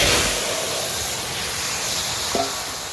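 Vegetables hit hot oil tempered with a bay leaf, dried red chillies and cumin seeds and sizzle with a broad, steady hiss, close and loud, with a brief clatter near the end and no talking.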